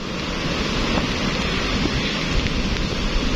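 Heavy rain from a storm pours down in a steady, dense roar that fills the whole clip without letting up.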